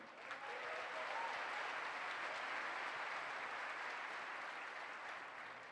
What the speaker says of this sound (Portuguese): Diga, para aplaudir a Jesus que Ele é bom.